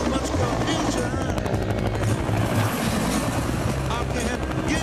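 A helicopter in Perth, loud and close with a steady rotor and engine roar throughout, mixed with music and busy background noise.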